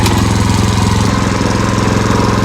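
A Husqvarna TF 230 cultivator on 4.00-8 wheels runs in first gear at minimum throttle, its engine making a loud, steady, low thudding drone close by with no voices.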